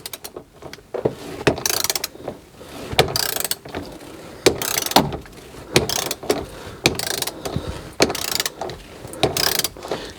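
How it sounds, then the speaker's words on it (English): A torque wrench ratchets a bolt down to 45 foot-pounds on a Jeep Wrangler: close, sharp clicking comes in repeated short bursts with brief pauses between them, and no one speaks. "now let me go get my torque wrench"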